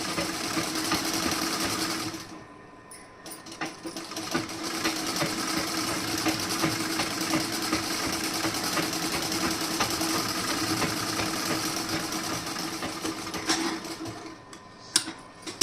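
Sewing machine running steadily while double stitching a sleeve seam, a continuous close mechanical whir with a brief pause near the start and faint ticking of the mechanism throughout.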